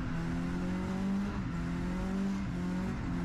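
A car drifting at a drift event, heard from inside, with a loud, continuous engine drone whose pitch rises and falls as the throttle is worked through the slide.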